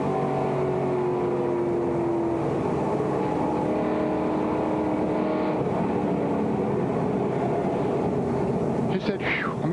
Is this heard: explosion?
no